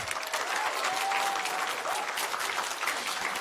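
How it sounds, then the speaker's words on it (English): An audience at a middle school pitch competition claps for a student team from an Arizona middle school, with steady, dense applause filling the room throughout and no talk over it. "A round of applause for them."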